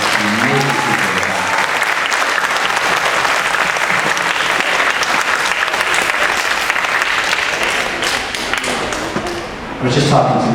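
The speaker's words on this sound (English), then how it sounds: "a huge round of applause from you students and the families for Ms. Brunnick" Students and families at an elementary school spring strings concert give sustained, dense applause that fills the hall, easing slightly before a voice briefly speaks near the end.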